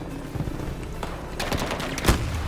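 Shotgun blasts in a Thai-played online shooter, a few sharp reports scattered over a second, the loudest one near the end, set against steady game noise with no talk.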